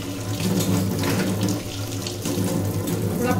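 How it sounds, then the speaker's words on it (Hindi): Water runs steadily from a tap into a sink during cleaning, a constant close, loud splashing flow with slight fluctuations throughout. "थोड़ा पानी ज्यादा लगता है साफ करने में"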